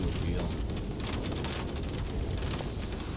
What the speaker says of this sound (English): Sounds like it's raining.